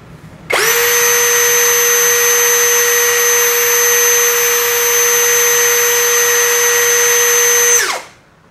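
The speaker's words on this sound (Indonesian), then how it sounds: "Modenya kita ubah ke mode drilling dan untuk kecepatannya kita pakai kecepatan nomor 1" Hasston 21V cordless brushless impact drill spins freely in drilling mode at speed setting 1, a loud steady high-pitched motor whine starting abruptly, holding even for about seven seconds, then winding down; no talk.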